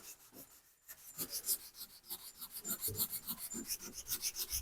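Steady rasping scuffing of a car hood's low spots ahead of body filler, a quick rhythmic back-and-forth rub repeated many times, close and alone.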